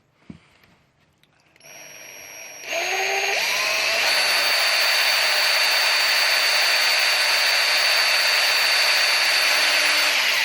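Power drill boring pilot holes in wood for an allotment brassica cage: after a quiet start and a few knocks, the motor spins up and holds a loud, steady whine to the end.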